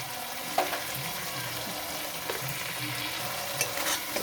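Masala with tomato sauce and sugar is stir-fried in a pan, a steady low sizzle under repeated scraping and stirring strokes of a spatula, with a few sharper clinks against the pan, close and moderately loud.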